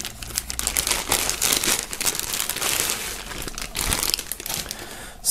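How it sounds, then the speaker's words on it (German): Plastic foil being torn and pulled off a shirt and a music album from a box set, loud close crinkling and rustling that runs continuously with no talk. "nachdem hier das Shirt und das Album noch in Folie sind, werden wir es mal hier rausholen"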